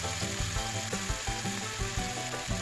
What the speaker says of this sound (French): j'ajoute les morceaux de viande et je vais les faire rissoler environ 1 minute sur chaque face